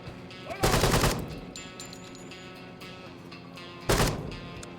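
Two loud bursts of rapid automatic gunfire in Door Kickers 2, one near the start and one near the end, separated by a quieter stretch of low game ambience.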